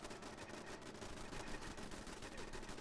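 Automated turrets in the video game Fallout 4 fire continuously, a dense, steady stream of rapid gunfire with no pauses, loud and close throughout.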